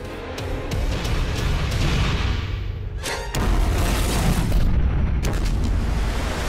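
A methane explosion in an underground cavity: a loud, sustained booming roar with broadband rumble that dips briefly near the midpoint, then surges again with sharp crackling bursts, close and continuous throughout.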